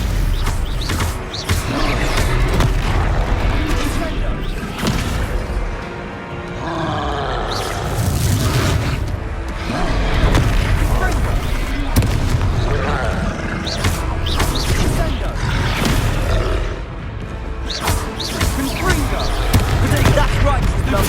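Confringo blasting spells go off in Hogwarts Legacy combat as a dense, loud stream of bursts and crashes mixed with creature roars and grunts, with shouted voices throughout.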